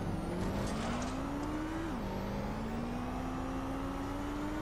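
A motorcycle engine from the video game Watch Dogs Legion, ridden through London streets, drones steadily and fairly quietly. Its pitch climbs, drops briefly as if shifting gear, then rises again.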